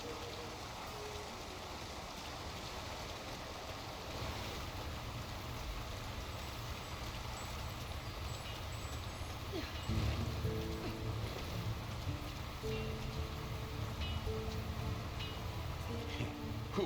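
Steady rain patters over a town in The Lord of the Rings: War in the North, a dense even wash with water trickling beneath and a low hum, continuous for the whole stretch.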